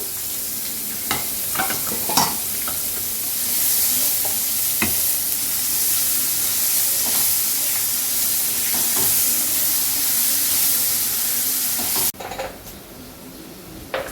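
Chopped onion and bay leaf frying in hot oil give a loud, steady sizzle with scattered stirring clinks, cutting to a quieter pan near the end.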